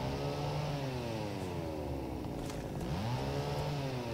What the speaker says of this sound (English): It's another chainsaw guy.